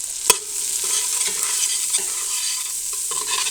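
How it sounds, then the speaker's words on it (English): Spoon stirring flour into vegetables in a soup pot for chicken rice soup, with a steady close sizzle underneath and soft scraping knocks against the pot. "Now I'm going to add 1/4 cup of flour and stir that in for 3 minutes."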